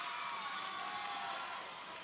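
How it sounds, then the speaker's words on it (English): A home crowd at a girls' high school volleyball match gives a standing ovation, a steady wash of distant cheering and clapping that holds for a couple of seconds and then eases slightly. "The Lancers have a standing ovation from their crowd."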